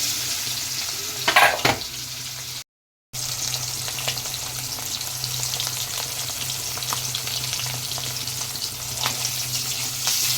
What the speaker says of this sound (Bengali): মাছগুলি উল্টে পাল্টে একটু হালকা করে ভেজে নিচ্ছি